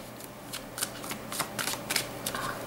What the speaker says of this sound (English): I will draw you 7 cards now and then clarify with another 7 from another deck.